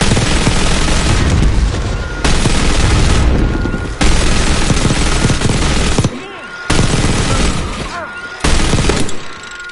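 Bursts of heavy gunfire and explosions from a Call of Duty Black Ops 6 battle come loud and close in several long blasts separated by brief lulls, with shouted voices in between.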